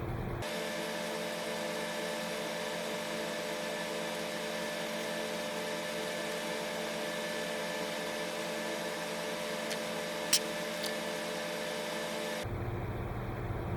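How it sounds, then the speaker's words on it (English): A power sander works the edges of a model hull part, a steady whirring motor drone that holds evenly for about twelve seconds with one small sharp tick, then cuts off. "What I'm going to do is sand the edges down,"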